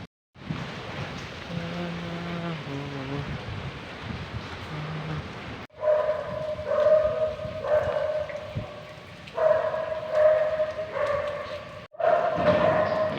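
Several dogs bark repeatedly in short bursts over a steady patter of rain, some barks nearer and louder than others.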